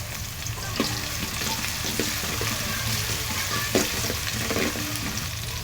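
Six cardamom pods sizzle as they drop into hot oil in a pan while cooking mung dal muro ghonto, a steady close frying crackle with small pops and stirring scrapes throughout, no talking.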